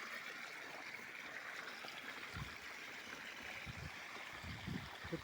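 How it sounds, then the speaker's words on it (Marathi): Pump-fed irrigation water runs out of a pipe outlet into a field furrow as a soft, constant trickling flow, with a few low bumps from handling nearby. "इथं पण पाणी चाललेलं आहे."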